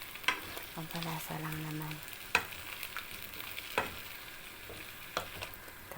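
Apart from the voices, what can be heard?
stirring shrimp paste (alamang) frying in a pan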